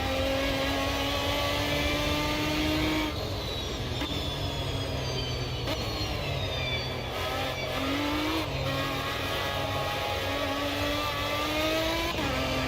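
A race car engine roars continuously in a racing video game at Road America, its pitch rising and falling through gear changes, loud and close with no talking.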